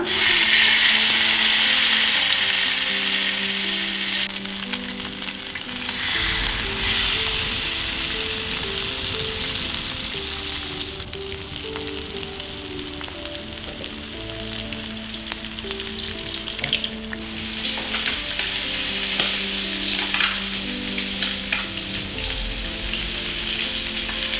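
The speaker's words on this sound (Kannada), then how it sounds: "ಈಗ ಫಿಶ್ ಫ್ರೈ ಮಾಡ್ತಾ ಇದ್ದೀನಿ." Masala-coated fish fries in about two tablespoons of oil on a tava, giving a steady, fairly loud sizzle that holds throughout with occasional brighter crackling bursts, and no voices.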